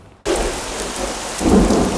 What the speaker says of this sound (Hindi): बाहर बारिश भी बहुत हो रही है